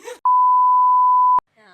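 A single steady censor beep, one flat loud tone lasting about a second, cuts over a conversation, with talking just before and after it.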